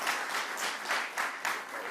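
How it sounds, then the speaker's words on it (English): Audience applause at a New York gubernatorial event on gun violence prevention, a steady wash of many hands clapping in rolling surges for about two seconds. "Give yourselves a round of applause."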